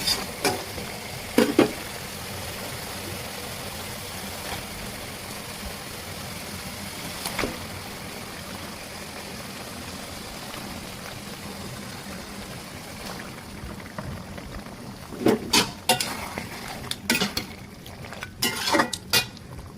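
Large pieces of beef go into spiced masala cooking in a pot, with a steady sizzling hiss running throughout and scattered utensil and pot clinks that cluster more densely toward the end.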